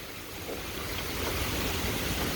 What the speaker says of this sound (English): This is an aggressive storm. Look at the water. That is horizontal rain right there.